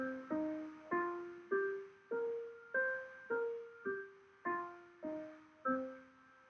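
A piano plays single notes of a pentatonic scale, eleven evenly paced notes that each ring and decay, heard clearly and alone.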